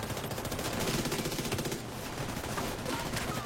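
Video-game gunfire rattles in rapid bursts, sniper and automatic shots blending into a dense, crackling volley that briefly eases and resumes, loud and continuous with no talking.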